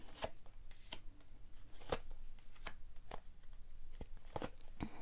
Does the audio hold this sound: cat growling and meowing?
no